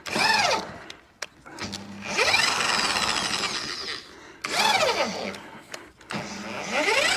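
A cordless drill bores into a hard timber fence post in repeated bursts, each spinning up with a rising whine and grinding through the wood before easing off, close and loud with no talk.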